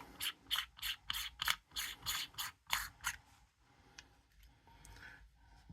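Beauty ring being unscrewed from a 7artisans 25mm F1.8 lens: a run of short, close scraping and ratcheting rubs, about a dozen quick bursts, then fainter small clicks and handling noise, with no talk.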